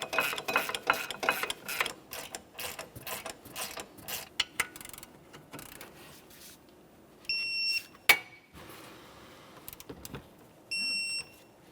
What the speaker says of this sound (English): you can snug them up and torque them to 80 foot-pounds